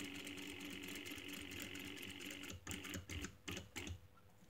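A sewing machine stitching a pocket flap runs in a quiet, steady rapid whir, then slows into a few separate thumping stitches near the end.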